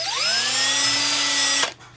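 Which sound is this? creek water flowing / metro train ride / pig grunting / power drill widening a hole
power drill widening a hole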